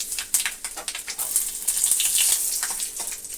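Whole spices, dried red chillies and bay leaves spit and crackle in hot mustard oil for a mango pickle, a steady close sizzle with sharp popping bursts throughout.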